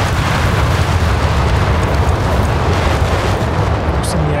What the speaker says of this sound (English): Invested a lot of manpower into all these carpet bombs